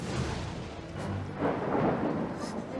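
Deep, rumbling thunder in a cartoon, made by the hooves of a giant creature, rolls on continuously at moderate loudness with a couple of swelling surges and no clear break.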